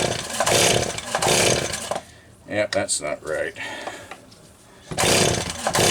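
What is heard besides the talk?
Stihl 026 chainsaw being pulled but failing to start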